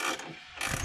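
A ratchet tightens a plumbing fitting in a short, close burst of clicking mechanical ratcheting, with a louder flurry of clicks toward the end.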